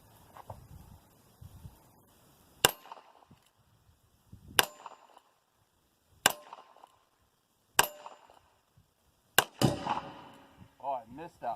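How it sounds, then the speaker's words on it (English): Four or five sharp gunshots each ringing off a steel target with a bright metallic clang, spaced roughly every one and a half seconds, loud against a quiet outdoor background, with a short voice at the start and end. "First shots on my steel target."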